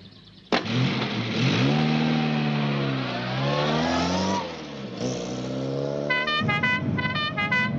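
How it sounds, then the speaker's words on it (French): An old car draws near with its engine rising and falling, then gives a series of short, rapid horn toots near the end, close and moderately loud, with no talking. "Qu'est-ce que c'est que cette bagnole qui s'avance avec un air de tortue?"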